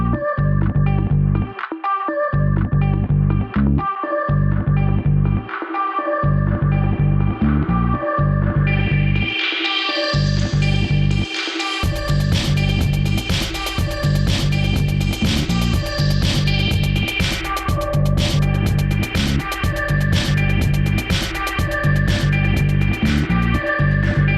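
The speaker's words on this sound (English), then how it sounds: "Last but not least, I get a reverb." Guitar played through a reverb effect, loud and steady, with sustained chords and notes that ring out and wash together into a bright, spacious tail over the second half; no talking.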